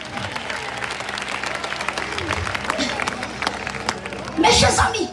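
A church congregation bursts into applause and cheering at a French-speaking gospel service, with loud clapping swelling near the end over babble and a preacher's voice.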